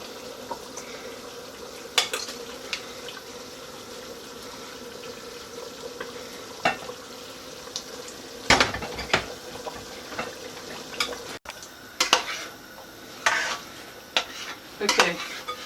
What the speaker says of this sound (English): So now I'm going to put the rice in.